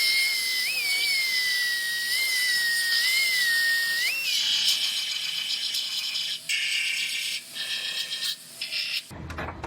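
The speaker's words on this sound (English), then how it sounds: "I'm going to drill out those few welds and separate that" A power drill whines steadily at high pitch, drilling out spot welds on a Subaru body panel, then turns harsher and grinding as it bites into the metal, stopping and starting in short bursts before a final clunk.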